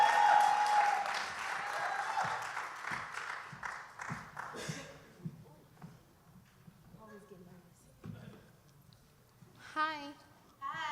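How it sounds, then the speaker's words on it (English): An audience at a writers workshop claps, loud at first, then quickly thinning to scattered claps and fading as footsteps and brief talk follow. "Clap her all the way to the stage, all the way to the stage."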